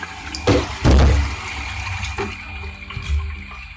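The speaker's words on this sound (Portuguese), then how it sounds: "Vou pôr água" Tap water runs into a small cup in a home kitchen while making a caramel custard pudding, a steady close splashing stream with a few louder gushes as the flow shifts.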